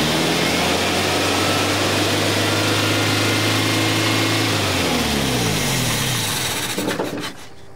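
A 1984 Datsun 4x4 engine with a Weber carburetor idles loudly and close by, its steady drone dropping in speed before it sputters and cuts out.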